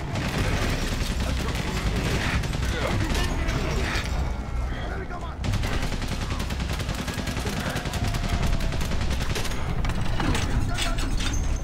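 Dense, continuous battlefield gunfire from Valiant Hearts: The Great War, a World War I setting, with rapid machine-gun bursts and crackling rifle shots layered over booming blasts, loud and unbroken for the whole stretch.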